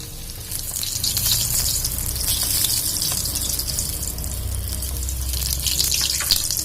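Spinach leaves, dropped one by one as pakoras, fry in hot oil in a kadai, giving a steady, loud, close sizzle that bubbles on without pause.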